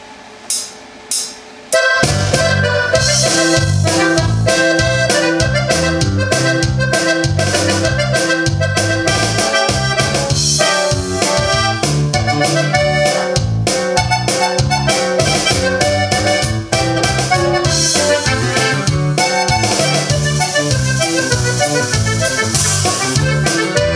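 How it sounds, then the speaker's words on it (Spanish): Live accordion played with bajo sexto and drum backing, a full, loud, steady norteño-style groove with bright sustained reed chords over a thumping bass rhythm, starting after a couple of short opening hits. "les voy a tocar el acordeón en vivo"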